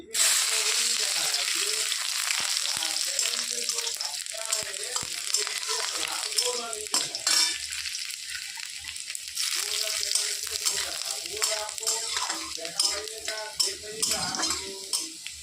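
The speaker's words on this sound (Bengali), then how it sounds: "তেলটা খুব গরম হয়ে গেছে শুকনো লঙ্কা দিয়ে দিচ্ছি দিয়ে দিচ্ছি একটা রসুন" Dried red chillies and garlic spitting and sizzling loudly in very hot oil, a steady close crackle with a spoon stirring through it; no one speaks.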